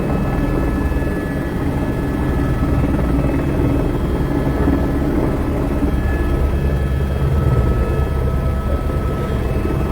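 Steady, loud rotor and engine drone fills the cabin of a helicopter in flight, continuous and close with no breaks.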